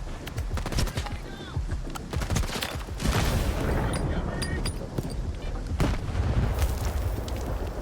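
Dense rolling gunfire in a video game mercenary battle, steady bursts and booms filling the whole stretch, with a voice talking over it.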